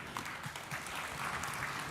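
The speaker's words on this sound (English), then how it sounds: "So round of applause, not only for yourselves, but for our fantastic facilitators." An audience at a Pacific arts summit applauds its facilitators, a steady wash of clapping at moderate distance, fairly faint and continuous throughout with no clear talk over it.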